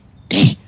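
A single sharp sneeze bursts out loud and close, an abrupt, noisy blast that cuts off quickly, with another sound beginning right after it.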